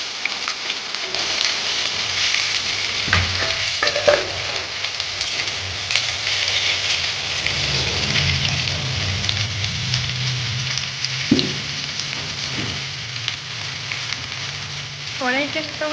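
Potatoes frying in oil in a wok (kadai) and being stirred, a steady close sizzle with occasional scrapes and clinks of the spatula, while faint voices murmur in the background.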